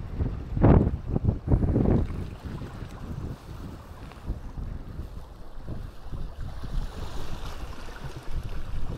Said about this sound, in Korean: 어우 바람.